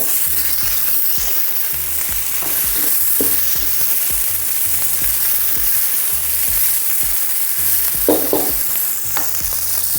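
Cut chillies and vegetables fry for vegetable nasi goreng in a pan, a loud, close, continuous sizzle punctuated by the knocks and scrapes of stirring, with no voices.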